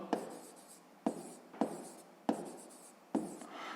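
A pen scratches on paper during a sixth-grade math lesson, making five distinct strokes in an uneven rhythm, close and clear with no talking.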